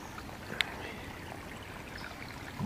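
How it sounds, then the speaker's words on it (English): A small woodland creek trickles and washes over debris in its bed, a soft, steady, continuous flow heard faintly during a hike, with no talking. "Just a little creek and the water hitting the debris in the creek."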